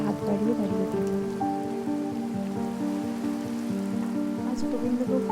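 Heavy rain pours steadily on a rainy day, a dense continuous hiss of drops hitting surfaces, close and loud throughout with no talking.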